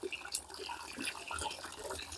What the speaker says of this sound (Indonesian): Jadi kita kondisikan air mengalir sebesar ini